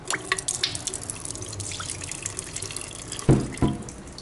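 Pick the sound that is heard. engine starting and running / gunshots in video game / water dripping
water dripping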